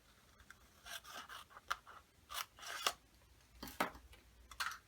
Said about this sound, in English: You open it back up, and you cut on the fold line